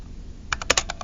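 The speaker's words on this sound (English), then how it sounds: "I'm going to type" Several quick keystrokes on a computer keyboard in a quiet room, about six soft clicks clustered in under a second.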